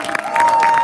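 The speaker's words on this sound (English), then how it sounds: "give a big round of applause." Crowd clapping and cheering at an outdoor New York City vigil for Julian Assange, a dense, steady burst of applause that swells and holds, with a sustained tone running underneath.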